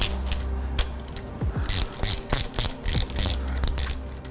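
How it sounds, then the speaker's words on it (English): Ratchet clicking as a motorcycle clutch lever clamp is tightened on new handlebars, quick bursts of close pawl clicks in several strokes over a low steady hum, with no talking. "I'll get the clutch lever tightened up where you like it."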